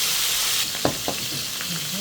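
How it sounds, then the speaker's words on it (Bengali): Fish frying in a hot pan, with a loud, even hiss and sizzle throughout and a couple of brief clinks or stirring knocks near the middle. "মাছটা দিয়ে দিলাম সব"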